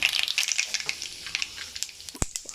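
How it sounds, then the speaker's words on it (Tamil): Mustard seeds crackle and pop in hot oil, small sharp bursts firing irregularly, close and fairly quiet, with no voices, while making tomato pickle. "இப்போ எண்ணெய் சூடாகிடுச்சு. இப்போ கடுகு போட்டுக்குவோம்."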